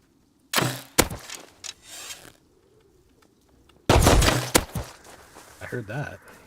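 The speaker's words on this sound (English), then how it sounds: "Those are gunshots." Sharp gunshot cracks from the video game Rust go off in two bursts, close and loud, with a voice speaking in the gaps and game sounds around them.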